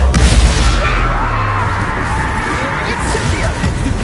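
A spell explosion bursts in the Hogwarts Legacy video game, a loud booming blast that fills the clip with rumbling crash and shouting battle noise around it.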